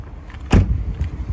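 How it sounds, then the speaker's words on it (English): A hood release lever on a 2011 Kia Sportage is pulled, and the cable release gives a single sharp pop up close, followed by faint rattling and handling noises in a quiet space. "pull that lever towards you, and you'll hear a pop. This is a cable release."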